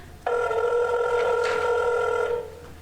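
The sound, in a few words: telephone bell ringing in radio drama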